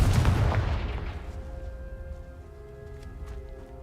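Confringo fire spell from the Hogwarts Legacy video game blasting with a loud, sharp explosive boom at the start, its rumble decaying over a few seconds into a lingering tonal hum.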